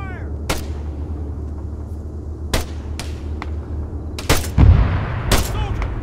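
Gunfire in ARMA 3: sharp single shots crack out at irregular intervals over a low rumbling battlefield backdrop, with a heavier blast near the end, loud and close.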